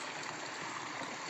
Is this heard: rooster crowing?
no